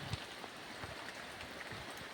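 Heavy rain falls around a tree giving shelter in rural Konkan, a quiet, dense patter of drops with scattered louder splashes and no talking.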